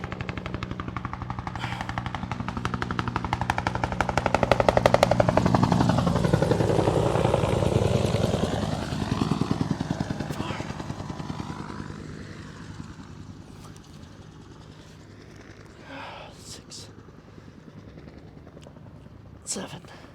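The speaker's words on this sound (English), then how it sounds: "This damn helicopter's coming again, boys." Helicopter passing overhead outdoors, a loud rotor thrum and engine roar swelling to a peak then fading away over about fifteen seconds, with wind buffeting and a voice counting reps beneath it.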